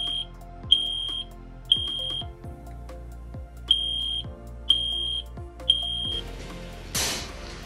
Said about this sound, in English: The smoke detector triggers visual and audible alarms.